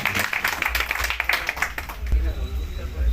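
An audience at an Indian political gathering applauds in welcome, a steady patter of many hands clapping at moderate distance, with a brief stronger burst partway through.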